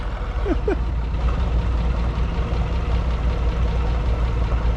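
A Minneapolis-Moline 900 six-cylinder diesel tractor engine idles at a farm show with a steady low rumble, close and constant throughout, with a brief faint voice early on.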